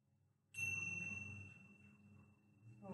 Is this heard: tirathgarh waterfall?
no